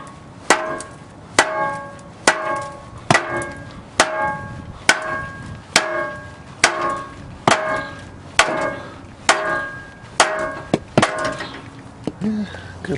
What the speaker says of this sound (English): We'll smack it a few times with a hammer.